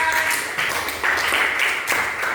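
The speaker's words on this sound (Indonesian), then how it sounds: "Tepuk tangan untuk kelompok 4." Classroom of students clapping for a student group after its presentation, a dense steady patter of many hands filling the whole stretch at even loudness.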